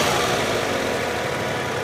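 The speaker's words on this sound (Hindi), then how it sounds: "ये देखिए स्टार्ट गाड़ी भी है" A 1987 Japanese-model Suzuki Mehran car idles nearby with a steady, even engine drone that fills the whole moment without talk.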